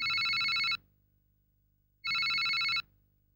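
A phone ringtone sounds twice in a quiet room, each bright electronic ring lasting under a second with a pause of silence between, loud and clear, with no speech.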